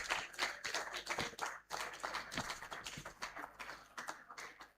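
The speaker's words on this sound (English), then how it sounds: "Please, a round of applause for Professor Bamishaye" A seated audience at a formal gathering claps in a quiet, uneven patter, a loose cluster of hands rising and dipping over several seconds, heard at low level without voices.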